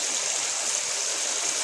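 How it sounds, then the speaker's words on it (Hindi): Beef stock poured into a karahi of frying masala, a steady close splashing flow of liquid hissing throughout with no talk. "यानी 2 गिलास इसमें यखनी के हमने शामिल कर दिए"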